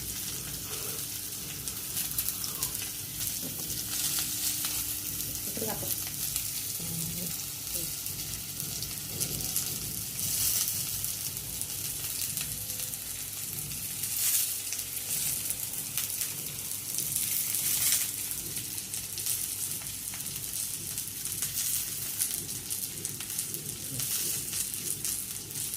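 Chilies and onion fry in a pan for beetroot pulao, giving a soft, continuous sizzle and crackle that stays faint and even from start to finish.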